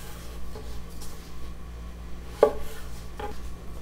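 A knife slicing a mango into strips on a board, a few soft, sparse cutting taps with one sharper click, quiet against a low steady background hum.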